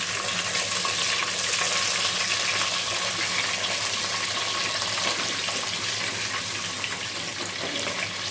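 Mustard seeds, fenugreek and urad dal fry in hot oil for a fish curry, giving a steady, loud, close sizzle with fine crackling pops that runs unbroken throughout.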